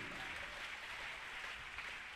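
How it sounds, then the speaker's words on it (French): A church congregation applauds in a steady, continuous wash of clapping, fairly faint and distant, with no voices over it. "Prêter mon applaudissement"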